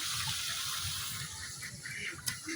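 Raw broiler chicken pieces are rinsed under running tap water, a steady splashing gush with small bursts near the end, close by and without talk.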